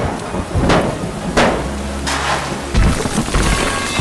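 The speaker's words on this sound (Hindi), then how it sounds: "बारिश की बूंदें इस शांत निर्माण स्थल पर गिर रही हैं" Rain falls steadily on a quiet construction site in an animated vehicle story, a dense wash of hiss broken by several heavy thumps and surges, loud and close with no talking.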